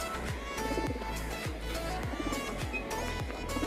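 Pigeons at a rooftop loft coo in soft, low, steady repeated phrases against a dense, constant background hum.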